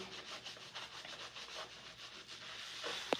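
Shampoo rubbed and massaged into the scalp, a close, soft, rhythmic scrubbing of fingers through wet hair repeating in quick strokes, with a brief sharp tap at the end.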